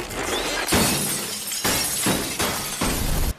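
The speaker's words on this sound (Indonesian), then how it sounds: "Seluruh lampu neon di ruangan pecah tanpa sebab" Several fluorescent lamps in a room burst one after another in a loud film sound effect, each sharp glass shatter followed by a spray of tinkling fragments, with about four distinct breaks in quick succession.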